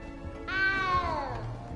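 A frightened little cat in the video game Hogwarts Legacy gives a single clear, drawn-out meow that falls in pitch, close by over a quiet game backdrop.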